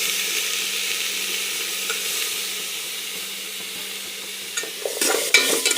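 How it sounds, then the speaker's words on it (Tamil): Eggplant and potato pieces sauté in hot oil in a home kitchen, giving a steady, soft sizzling hiss. A few louder clinks and scrapes of stirring come near the end. "இது நல்லா இந்த ஆயிலே வந்து இந்த கத்திரிக்காயும் இந்த உருளைக்கிழங்கும் வெந்துடணும்."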